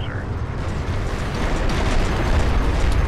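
Cruiser fire-support explosions from the Deserts of Kharak strategy game roll in as dense, loud, rumbling bursts, one layered over the next, running continuously.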